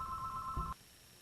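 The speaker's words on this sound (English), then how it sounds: "and as you can see, the phone's ringing" A telephone rings with a steady electronic tone that cuts off abruptly partway through, leaving quiet room noise.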